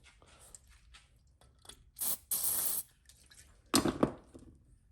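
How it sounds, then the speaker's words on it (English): Two bursts of hissing lubricant spray from a spray can onto a clamp during a Royal Enfield Bullet sidecar fender repair, each lasting under a second, close up, with small clicks and handling noises between them. "Just spray a little lube on there"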